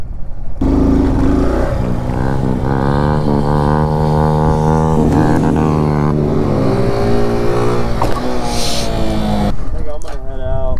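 A motorcycle on a stunt lot runs loud and steady at close range for several seconds, then cuts out abruptly near the end, leaving only faint background.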